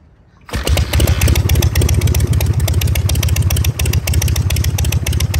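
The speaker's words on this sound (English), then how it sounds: "that's why the Harley-Davidson has the potato sound, the potato, potato, potato, potato when it idles" A Harley-Davidson motorcycle engine catches abruptly and settles into a loud, close idle with a rapid, uneven loping beat that holds steady throughout.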